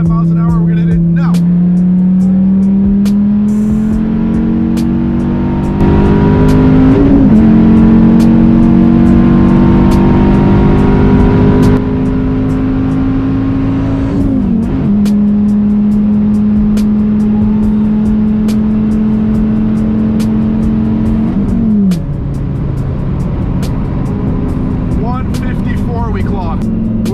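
A car with a rear wing engine runs hard down a straightaway in Mexico, the engine note climbing steadily through long pulls with brief drops at each gear change, loud and close throughout, with someone talking over it.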